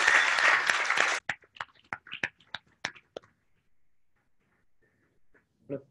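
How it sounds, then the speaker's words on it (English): An audience applauds two speakers, a dense burst of clapping that quickly thins to a few scattered, isolated claps before fading into near silence. "I'll ask for another round of applause for both speakers for being here today."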